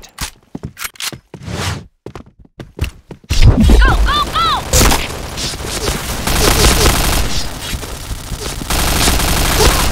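MP7 submachine gun fire in the Point Blank shooter, starting with scattered single shots and footsteps, then sustained loud rapid bursts over game effects and announcer voices.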